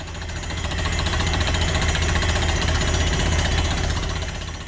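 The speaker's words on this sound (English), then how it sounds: "not just what I call drilling, but also a hammering function, which you see right here" Dense, rapid pounding of a well drilling rig's hammering function continues at close range, a loud, gritty rattle with no pauses.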